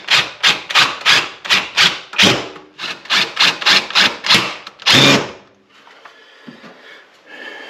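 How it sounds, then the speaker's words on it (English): A power drill driving screws to mount a gas ball valve at a wall, with a rapid series of short, punchy whirring bursts up close, a pause, one final longer burst, then quiet handling noise. "we just got to put a couple screws in, one on the top and one on the bottom, to hold it still."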